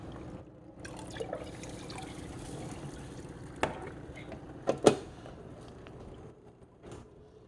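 Purified drinking water trickles and splashes softly as it is poured into a home fish tank, with a few louder plops and drips over a quiet background.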